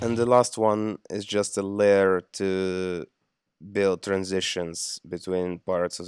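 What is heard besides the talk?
No everyday noises stand out.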